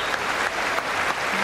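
US Congress joint session giving PM Modi a standing ovation, dense, loud applause from a large crowd of hands clapping continuously.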